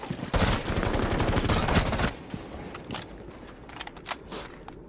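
A Rainbow Six Siege automatic rifle fires a loud rapid burst for about two seconds, followed by scattered shorter shots and clicks that trail off more quietly.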